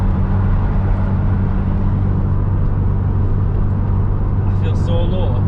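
Modified Toyota MR2 Turbo SW20 with a fiberglass Ferrari replica body kit cruising on a motorway, a constant loud low engine drone and road roar inside the cabin, with talking underneath.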